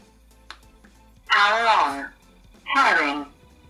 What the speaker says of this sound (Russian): Собственно, слышишь, как он включился.